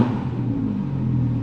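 An Audi R8 engine revs in a short burst, its droning note swelling and easing as the throttle moves, close and fairly loud.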